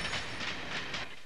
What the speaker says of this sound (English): we have to take a small train trip.